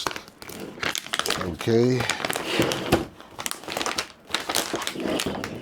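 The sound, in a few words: cutting open Dinobot Grimlock toy box packaging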